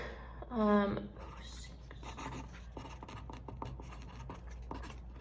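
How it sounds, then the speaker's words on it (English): Pen scratching on paper in a dorm room, soft and steady for several seconds after a brief spoken word at the start, close and fairly faint. "I need to write down something."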